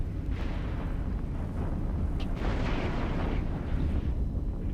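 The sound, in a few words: big explosions in the video game EVE Online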